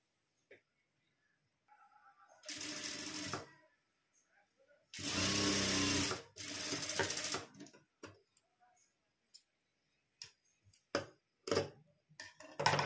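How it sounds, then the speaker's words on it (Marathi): Sewing machine stitching a lining strip on a tucked blouse, two short motor bursts followed by scattered ticks and clicks of handling, close and fairly quiet. "आता अशी करून अशी आपण ही टीप मारून घेऊया"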